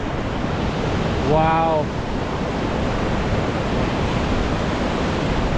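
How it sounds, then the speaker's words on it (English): A gushing white river rushes steadily below a footbridge on a trek toward Everest Base Camp, a broad, loud, continuous roar with some wind, and one person exclaims briefly over it. "We are crossing the bridge of the gushing white river."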